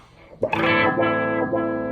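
Electric guitar played through an EHX Mod11 modulation pedal with its tap tempo synced from a Walrus Audio Monument, a sustained, strummed chord with swirling, wobbling modulation and some distortion, loud and alone after a brief quiet start.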